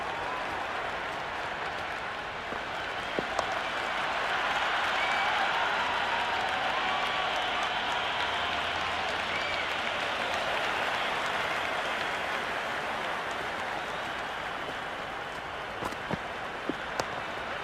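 A crowd applauds without pause at a cricket match in the Cricket 26 video game, a dense, even wash of clapping and cheering that swells gently and holds steady throughout.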